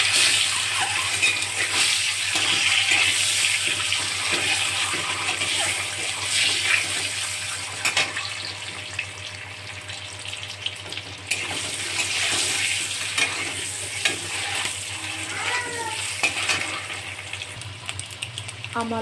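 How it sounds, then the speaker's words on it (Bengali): Eggs fry in a pan with turmeric and salt, giving a steady, fairly quiet sizzling hiss that lasts the whole stretch. Faint kitchen noises sit underneath. "অল্প হলুদ আর লবণ দিয়ে আমি ডিমগুলো ভালো করে ভেজে দেব।"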